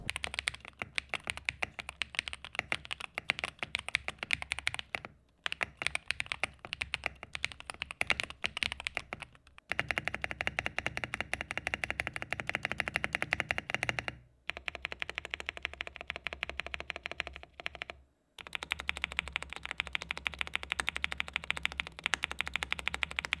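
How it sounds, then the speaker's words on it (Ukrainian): Continuous rapid typing on a mechanical keyboard, crisp clicky keystrokes in quick bursts with a few brief pauses between runs. "Ось послухай самостійно."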